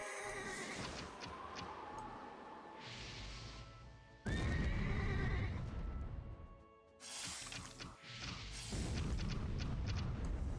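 Horses in a strategy video game neigh and whinny over a loud, dense battle soundscape of rumbles and clatter, with a sudden booming swell partway through.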